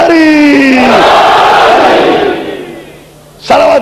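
A crowd at a Shia majlis raising loud collective religious slogans, a swelling roar of many voices that fades out before a fresh burst of shouting at the end.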